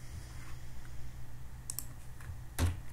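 Someone types code on a computer keyboard, with a few scattered, fairly quiet key clicks and one sharper tap near the end, over a low steady room hum.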